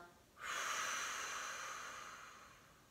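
A single deep belly breath drawn in through the nose and let out through the mouth, a soft steady airy rush that starts abruptly and slowly fades, close and alone with no talking, during pranayama breathing practice.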